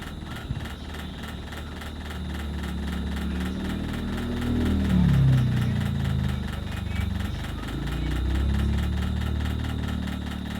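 A sewing machine stitches the side seams of a 36-size princess-cut blouse with a steady motor hum and rapid, even needle chatter that rises slightly midway, with no speech.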